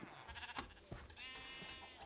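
Sheep bleat on a sheep farm in the video game Minecraft, with several short, wavering calls that overlap faintly against quiet background sounds.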